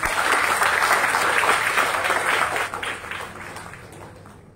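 Audience applause at a Tamil pattimandram debate event at NIT Trichy, a steady wash of many hands clapping that gradually tapers off toward the end.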